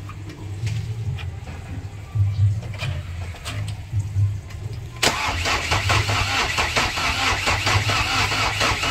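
A Chevrolet Captiva diesel that has sat unused for 1.5 years cranks loudly on its starter, first a slow labored churning, then a louder, faster steady cranking that runs on without catching.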